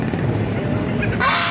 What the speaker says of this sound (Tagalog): Maraming gansa, baby.